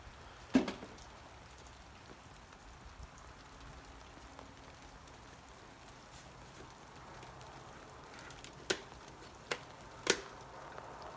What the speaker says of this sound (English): It's freezing rain right now